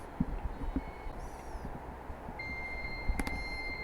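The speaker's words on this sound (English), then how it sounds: "I'm dialing the mucus phlegm modem number." A computer modem in the video game Thimbleweed Park dials and connects, giving quiet tones and beeps, a sustained carrier whistle and a short burst of handshake noise over low rumbling thumps.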